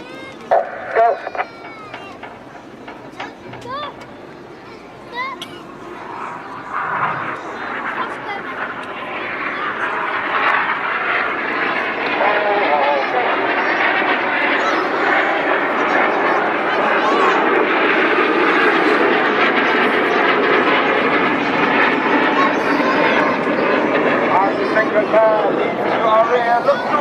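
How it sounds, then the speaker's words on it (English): Red Arrows jets at an airshow fly a crossbow manoeuvre of barrel rolls and inverted flight, a distant roar swelling into a loud, sustained rush overhead while a commentator speaks over it. "each aircraft perform a barrel roll followed by a cross and inverted flight in a manoeuvre called the crossbow"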